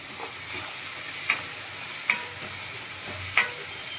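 Potatoes being stirred with salt and turmeric in a pan, a soft steady sizzle with a few light scraping clicks of the utensil against the pan, close and quiet with no talking.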